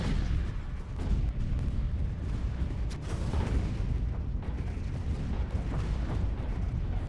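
Space fleet bombers and torpedoes firing in a large battle in the strategy game Stellaris, a continuous rumbling barrage of booms and bursts with brief louder hits, heard alone.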